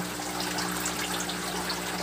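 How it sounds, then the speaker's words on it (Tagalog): A small submersible pump circulates water in a small aquarium tank, giving a steady close-up trickling, bubbling flow over a faint constant motor hum. "Ito yung pump na ginagamit natin dito."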